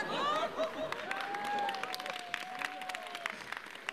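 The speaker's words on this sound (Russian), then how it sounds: "Всем спасибо за аплодисменты" Concert audience applauds, a steady mass of clapping with a voice speaking or calling over it near the start and a drawn-out vocal tone running through the middle.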